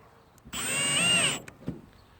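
A power drill whirs loudly for about a second as it drives a screw into a wooden block during installation, followed by a couple of faint knocks.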